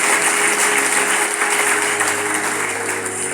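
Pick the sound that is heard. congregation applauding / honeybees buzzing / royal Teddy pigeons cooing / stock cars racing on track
congregation applauding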